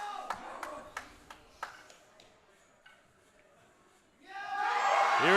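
A woman's coach stands behind her on the platform at a powerlifting nationals and screams encouragement. The yell bursts in loud and close near the end, after a few sharp clacks and a quiet stretch.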